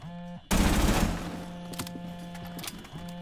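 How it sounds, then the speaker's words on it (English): Automatic gunfire in a first-person shooter video game match, a loud sustained burst of rapid shots followed by scattered fainter shots over steady in-game background hum. "Go to the gunfire!"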